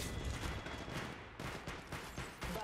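Rapid automatic gunfire in the mobile shooter Apex Legends Mobile, a rattling stream of close shots with brief breaks between bursts, steady and fairly loud throughout.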